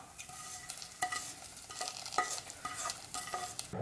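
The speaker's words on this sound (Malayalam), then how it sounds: "ഇപ്പം നമ്മുടെ നാളികേരം കറക്റ്റായിട്ട് തന്നെ ഫ്രൈ ആയിട്ടുണ്ട്. ഒന്ന് ഇളക്കി കൊടുക്കാം കേട്ടോ. ഇനി നമുക്കിത് ഈ കറിയിലേക്ക് ഇട്ട് കൊടുക്കാം." Fried coconut is stirred into a pumpkin and bean erissery curry, soft repeated scraping and stirring strokes with a faint sizzle underneath, close and quiet with no voices.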